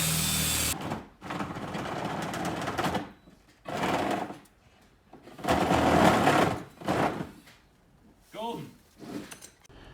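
A power drill whirs in several bursts of a few seconds each, drilling holes for a Ubiquiti security camera installation, separated by short pauses, close and fairly loud.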